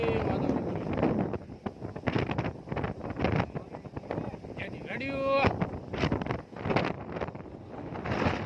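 Strong storm wind gusting across open farmland during isabgul threshing with a Shree Ganesh thresher-huller, roaring steadily close to the microphone, with voices talking over it and a brief tonal whine in the middle.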